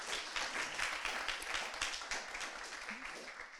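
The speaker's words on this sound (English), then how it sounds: "You can clap if you like." Brief, fairly faint applause from a lecture audience, a patter of clapping lasting a few seconds with some voices underneath.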